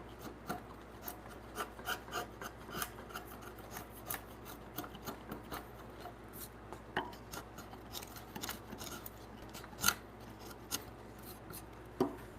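A chisel pares timber flat for the joinery of a timber-frame bunk bed, giving a quiet series of short scraping and shaving strokes in an uneven rhythm, heard close up with no talk.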